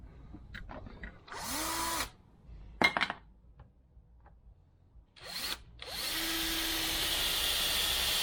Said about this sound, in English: drilling a hole pretty much in the middle of the track